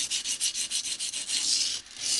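Rapid rhythmic rubbing strokes as a knife edge bevel is worked on a sharpening stone, about a dozen quick close scrapes that merge into longer smooth passes along the entire length of the edge.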